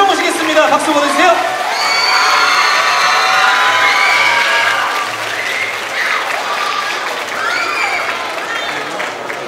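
A crowd claps loudly at an award ceremony for a youth dance competition at the Gangneung Danoje festival. The sustained applause comes with scattered cheers and shouts and slowly fades over several seconds.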